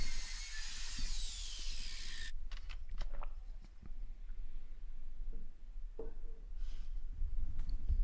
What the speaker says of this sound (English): And then I just chop them to length with the miter saw.